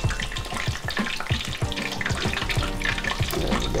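Battered fish frying in a pan as a copycat Long John Silvers batch cooks, a dense crackling bubble of hot oil with rapid popping, loud and close without speech.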